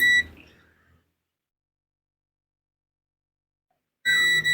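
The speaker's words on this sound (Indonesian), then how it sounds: "Ini saya pakai buzzer ya" A sharp electronic beep from a Polytron Zero Matic washing machine alarm buzzer sounds briefly at the start, then silence, before a loud buzzer tone starts again near the end.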